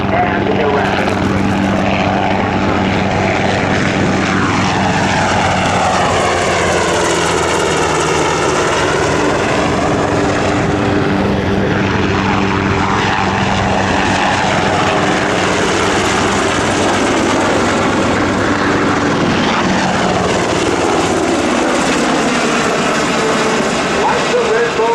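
UH-60 Black Hawk helicopters at a Rhode Island Air National Guard open house and airshow give a loud, sustained rotor and turbine roar that rises and falls as they pass, with people talking over it.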